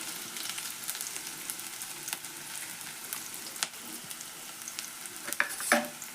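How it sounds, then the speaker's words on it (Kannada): Onion and green chilli frying in hot oil with mustard seeds, a steady soft sizzle with occasional scrapes and clinks of a stirring spoon, one louder burst of crackle near the end. "ನೋಡ್ರಿ ಸಾಸಿವೆ ಚಟಪಟ ಅಂದು ಈಗ ನಾವು ಹೆಚ್ಚಿಟ್ಕೊಂಡೇವಲ್ಲ ರೀ ಉಳ್ಳಾಗಡ್ಡಿ ಅವನ್ನ ಹಾಕ್ತೀನಿ ಆಮೇಲೆ ಮೆಣಸಿನ್ಕಾಯಿ ಹಾಕ್ತೀನಿ"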